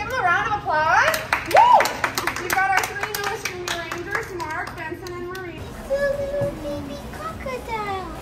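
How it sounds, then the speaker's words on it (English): Children give a round of applause at Everglades National Park, their clapping mixed with excited shouts and chatter close by. "Let's give them a round of applause."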